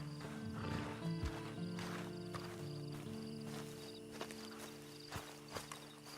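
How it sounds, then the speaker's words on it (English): A horse in the video game Red Dead Online steps about with uneven hoof clops and gives a neigh, set against a steady in-game musical drone and ambience. "Then you better get on this horse."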